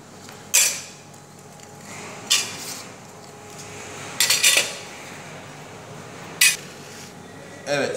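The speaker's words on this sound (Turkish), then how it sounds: "Hemen kabımızdan çıkarıyoruz." Sharp metallic clinks and clatters of fruit tartlets being lifted out of their baking tins, five separate bursts spaced a second or two apart over a quiet room with no talking.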